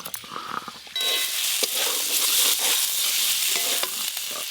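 Onion and ridge gourd fry in a pan, a quiet clatter that suddenly rises into loud, steady sizzling with occasional stirring scrapes close by, no voices.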